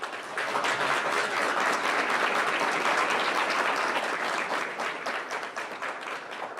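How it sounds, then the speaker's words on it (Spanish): A crowd breaks into sustained, loud applause at a presidential swearing-in ceremony for government ministers in Colombia, dense clapping that swells quickly and continues steadily for several seconds. "Felicitaciones y un fuerte aplauso."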